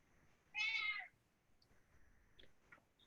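A house cat meows once, a clear, fairly loud cry standing out in an otherwise quiet room, followed by faint small clicks and rustles.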